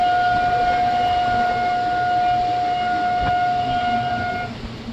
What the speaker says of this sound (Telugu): మన ట్రైన్ లోకో హాంకింగ్ అయితే మామూలుగా కొట్టట్లేదండి అసలనే.